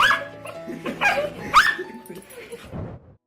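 A dog greets its owner, back after a year away in Afghanistan, with excited high whimpers and yips in quick bursts, close by, under a speaking voice.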